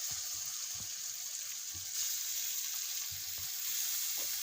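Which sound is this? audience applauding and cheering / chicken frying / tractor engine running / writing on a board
chicken frying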